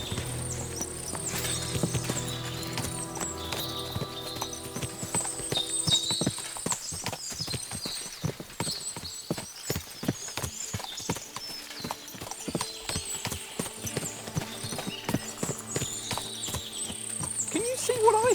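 Horse hooves clip-clop steadily in Kingdom Come: Deliverance II, with several horses trotting close by over a rattling, busy game soundscape, occasional whinnies mixed in.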